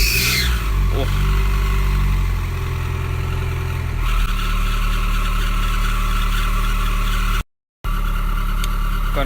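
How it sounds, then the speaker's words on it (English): A Volkswagen Passat B5 engine running steadily just after installation, a loud continuous low drone with a throttle change partway through, then settling to a rougher idle, with a brief dropout near the end. "Gonna gradually release the throttle now, see will she run on her own"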